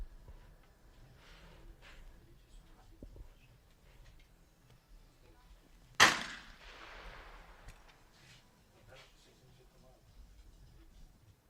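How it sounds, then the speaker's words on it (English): A single shotgun blast rings out at a women's trap shooting final outdoors, one sharp loud crack with a short trailing echo, set against quiet ambient noise. "lowers down into the shotgun to take the shot"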